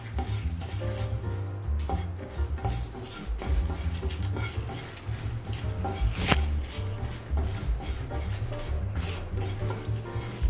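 Coriander seeds, dried red chillies and curry leaves dry-roasting in a pan: a steady close patter and light sizzle with continuous stirring scrapes, no voices.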